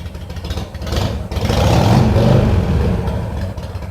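A 2006 Sportster motorcycle engine running close by: a loud, deep, rumbling exhaust that swells as the throttle opens, holds a rough, throbbing roar through the middle, then eases slightly. No talking.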